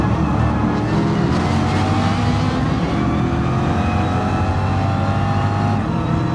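A Nissan GT-R race car engine in the Gran Turismo Sport racing game drones loud and steady, a constant deep roar with rising whining tones as it holds speed among other cars.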